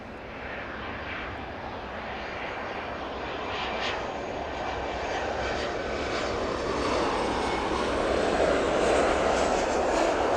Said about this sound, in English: A smooth but bit of a wobbler touchdown on the West Atlantic there.